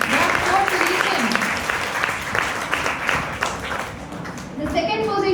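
Audience applause at a college elocution and prize distribution ceremony, dense steady clapping filling the room for several seconds with voices mixed in.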